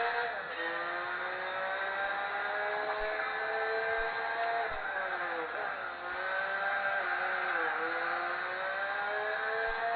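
A race car engine in Gran Turismo 4 roars steadily at high revs, pitch rising and dipping as it shifts gears, loud and continuous throughout.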